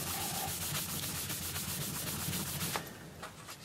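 Oil and wax treatment rubbed by hand along a guitar neck, a steady close scrubbing friction with a quick back-and-forth rhythm, a little firmer strokes near the end, alone with no talk.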